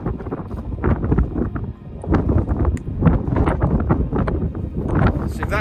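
Strong wind gusting across an open hillside above Levers Water in the Lake District, a steady loud roar with buffeting and rustle on the microphone that continues through the whole stretch.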